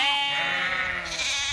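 A sheep in a lamb pasture gives one drawn-out, wavering bleat, loud and close.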